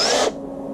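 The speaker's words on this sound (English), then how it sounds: "Keep drilling it square a little bit, carefully drilling in there so you're nice and square." A drill bores into a nitro RC truck's tank and battery mount plate in a short, close whirring burst that cuts off abruptly, leaving a low motor hum.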